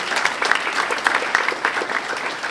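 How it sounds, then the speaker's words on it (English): Graduation ceremony audience applauding for an absent salutatorian: a full, continuous burst of many hands clapping in a hall, lively and even, with no voices over it. "let's give her a round of applause"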